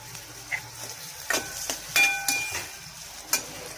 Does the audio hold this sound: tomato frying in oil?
yes